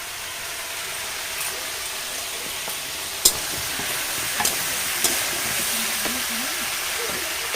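Fried prawns and a little ginger paste drop into a pan of pumpkin and onions, setting off a steady close sizzle with a few sharp clinks of utensils against the pan.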